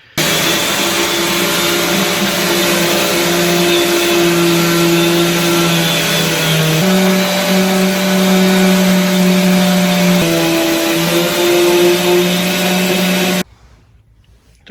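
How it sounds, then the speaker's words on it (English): A steady, loud whirring power sander drones continuously with slight shifts in pitch on the rear bumper of a Nissan 300ZX Turbo, then cuts off abruptly near the end. "the in situ sanding is done now on the bumper"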